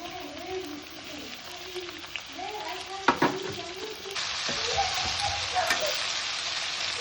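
Onion and tomato frying in oil in a pan for avalakki, a steady close sizzle with stirring scrapes and a few sharp spatula knocks around the middle, the hiss growing louder and brighter in the second half.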